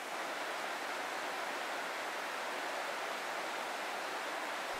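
A high mountain trout stream in Great Smoky Mountains National Park runs full, giving a steady, dense broadband rush of fast water close by, unbroken for the whole stretch with no voices.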